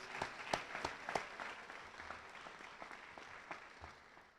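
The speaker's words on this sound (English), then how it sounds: "So a round of applause for them, please" Scattered clapping from a crowd at a high school spring athletics awards ceremony, sharp claps at first then thinning into a steady patter of applause.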